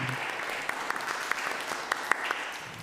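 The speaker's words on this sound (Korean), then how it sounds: "박수 올려드립시다" Congregation at a Sunday church service claps steadily, a dense, even patter of many hands with a few louder individual claps standing out, without speech.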